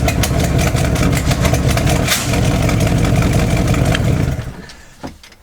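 A camper's engine roars loudly and steadily up close for several seconds, sluggish on throttle with an exhaust leak, then drops off and fades toward idle.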